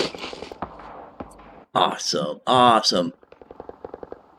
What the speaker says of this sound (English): I hear gunfire going off